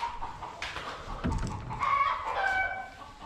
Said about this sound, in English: let's let these chickens do their thing.